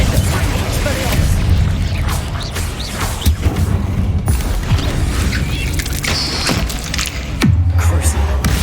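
Confringo spell blasts in Hogwarts Legacy erupt as several booming impacts and crashes amid dense game combat noise, loud and close.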